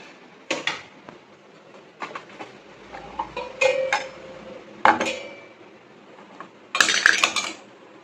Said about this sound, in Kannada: ಚಟ್ನಿ ಪಾತ್ರೆ ತಂದ್ಬಿಡ್ತೀನಿ